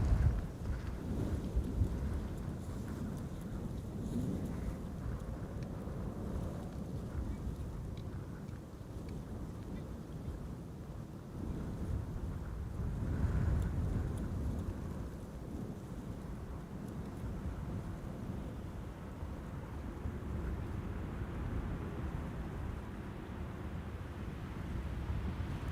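Strong gusty wind buffets a microphone at Schiphol Airport beside the Polderbaan runway, a steady low rumble that swells and eases across the whole stretch, loud and close, with no other clear sound standing out.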